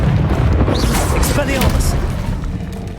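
Fire spell cast in Hogwarts Legacy, a loud roaring whoosh with a booming blast and crackling burst amid game effects, while a voice shouts over it.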